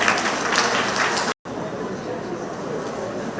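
A room full of members at a community association meeting applauds steadily for an incoming speaker, a dense crowd clatter that breaks off briefly in the middle before resuming.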